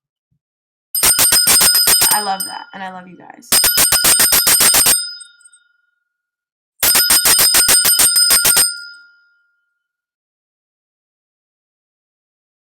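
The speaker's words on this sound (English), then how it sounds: "Where's the bell?" A bright bell, like a bicycle bell, rings in three rapid trilling bursts, loud and close, with a voice speaking briefly between the first two.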